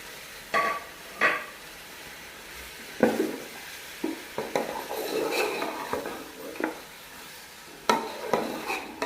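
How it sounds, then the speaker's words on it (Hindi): Chicken frying in oil in a karahi pan, with a low steady sizzle beneath repeated close clinks and scrapes of a utensil stirring against the metal pot at an uneven pace. "चिकन को हम इस ऑयल में अच्छी तरह से तल लेंगे।"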